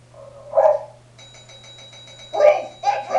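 A dog on a children's show gives two short barks, separated by a gap in which an electronic chime rings, then one more quick bark at the end, fairly close and clear, with no talking.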